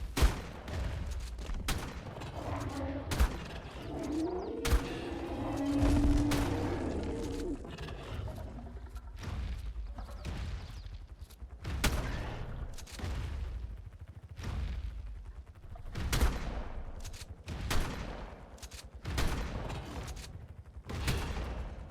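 Rapid bursts of gunfire in the ARK survival video game, shot against a creature during a taming session on a community server, with sharp repeated cracks in uneven volleys across the whole stretch, loud and close, with faint creature and ambient game sounds underneath.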